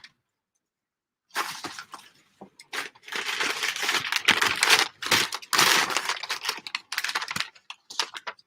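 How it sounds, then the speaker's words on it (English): Crinkled packing paper rustles and crackles up close after a second of silence, in loud irregular bursts of crisp crumpling that continue with short pauses. "Sorry for rustling."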